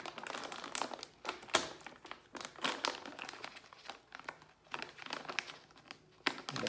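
A bag of home-style pretzels with a Ziploc-style zipper is handled and opened, giving bursts of crinkling plastic and crackling rustles in uneven clusters, close up and moderately loud, with no speech.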